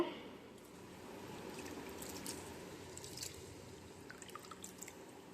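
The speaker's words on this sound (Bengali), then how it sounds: "এই দেখো আমি এখন ফাইনালি চালগুলিকে ধুয়ে নিচ্ছি" Rice being washed in water in a home kitchen gives soft, quiet drips, trickles and sloshing that carry on gently throughout, close by.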